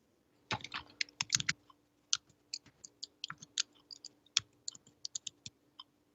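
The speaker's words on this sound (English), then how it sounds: "Could you type it for me, please?" Keys are tapped on a computer keyboard in an irregular run of sharp, clicky strokes, some quick bursts and isolated presses, close and moderately loud with no talking.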